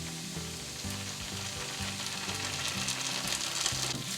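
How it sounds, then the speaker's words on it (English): Curry paste sautéing with onions in a pan for Goan ambot tik, giving a continuous, even sizzle and crackle up close with no talking. "We're going to saute the curry paste along with the onions"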